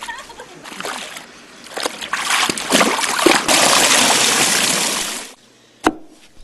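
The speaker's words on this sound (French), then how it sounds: "il faut absolument les laver dans l'eau claire de la rivière" Leaves being washed by hand in clear river water: sloshing and splashing builds into a loud, sustained wash of running water, then stops abruptly, followed by one brief knock.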